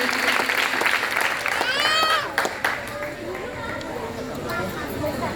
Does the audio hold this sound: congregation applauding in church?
yes